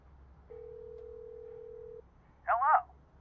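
A telephone number is dialed on a phone: one long steady tone holds for about a second and a half, then after a short gap a brief burst of warbling tones follows, close and clear with nothing else over it.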